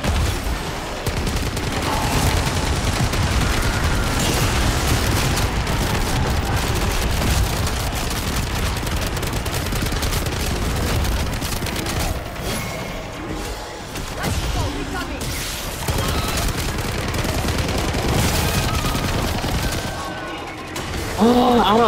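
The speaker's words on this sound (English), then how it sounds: "I'm gonna focus shooting her though." Sustained rapid gunfire aimed at a zombie boss in Modern Warfare Zombies, a dense continuous barrage of shots with booms mixed in for most of the stretch, with occasional voices underneath.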